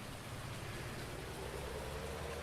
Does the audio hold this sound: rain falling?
yes